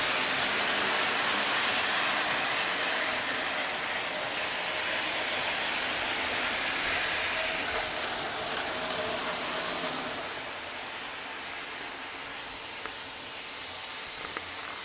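A model train runs on a three-rail track that is being cleaned, producing a steady, airy rolling whir with faint mechanical clicks; the noise stays constant, then eases slightly as the train moves on.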